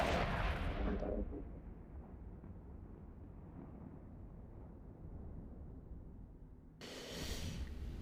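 A spaceship is destroyed in the space combat game EVE Echoes, a loud blast at the start that fades into a long low rumble, with another burst of noise near the end.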